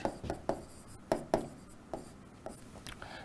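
A heading being written by hand on a board: soft, scratchy writing strokes come in an irregular rhythm of short bursts and brief pauses, close and quiet.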